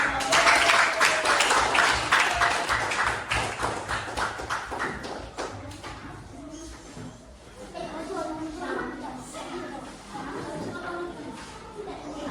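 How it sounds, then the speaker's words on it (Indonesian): Classmates clap for a student group that has just presented in a school lesson, a burst of close, scattered handclaps that fades after about five seconds into the teacher's voice and classroom murmur. "Ya, silakan berikan tepuk tangan untuk"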